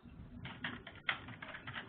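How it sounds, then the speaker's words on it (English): Quick, light clicks of typing on a computer keyboard come in short irregular bursts, close and fairly quiet, with no talking. "I was typing"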